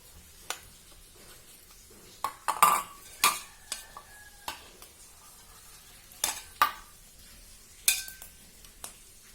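A spoon clinks and scrapes against a dish in a series of short, separate strokes, with quiet pauses between them.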